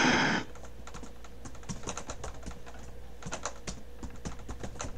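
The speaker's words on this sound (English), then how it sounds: "It's hard to type on this new laptop." Rapid, close-up clicking of keys on a new laptop keyboard, typed in a steady uneven patter for several seconds after a brief burst of noise at the start.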